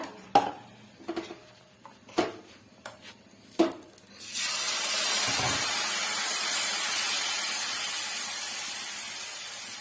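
Oil on a hot dosa tawa bursts into a loud, steady sizzle after a few scraping and tapping knocks, then the hiss holds close and even.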